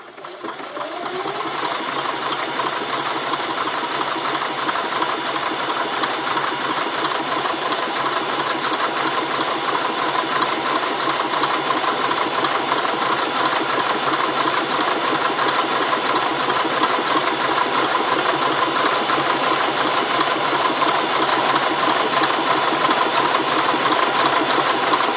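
An Elna 20 sewing machine stitches fabric at a steady, fast hum with a constant mechanical whir and rapid needle ticking, running continuously and close without any talking.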